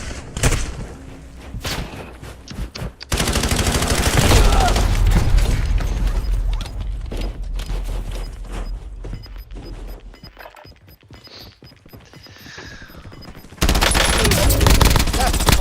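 Call of Duty Warzone battle with sustained loud automatic gunfire and bursts, shots hammering for long stretches and briefly easing before a fresh barrage, game voice callouts faint beneath.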